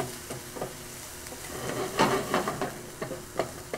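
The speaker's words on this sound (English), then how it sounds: "We'll give this a little stir." Cherry tomatoes sizzle in a pan while a spoon stirs them, giving a constant frying hiss broken by several short scraping strokes, close and fairly quiet, with no talking.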